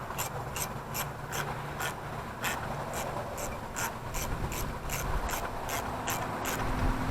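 Hand ratchet driving the original pressure plate bolts into the engine of a 1952 Ferguson TO-30 tractor, a steady run of close, crisp clicking strokes repeating evenly throughout.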